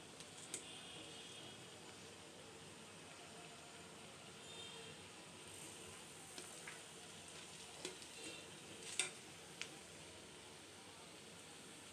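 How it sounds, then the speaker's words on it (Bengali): Egg snacks frying in hot oil, a steady low sizzle and hiss running throughout with a few faint clicks and pops, no voices. "এভাবে আমি সবগুলো নাস্তা ভেজে নেব"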